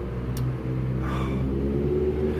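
A car drives past on a street in Taipei after running a red light, its low engine rumble steady and fairly close throughout, with a brief faint rise as it goes by.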